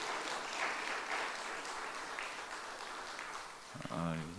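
Church congregation applauding: steady, fairly faint clapping from a gathered crowd lasting a few seconds, with a voice speaking briefly at the end.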